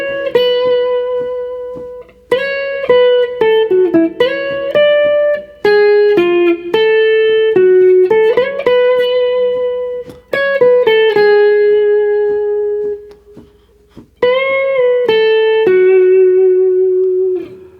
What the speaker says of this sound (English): let's put the whole of that intro solo together.